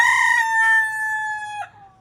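A native country rooster crows once, a single loud, close, sustained call that tapers off at the end.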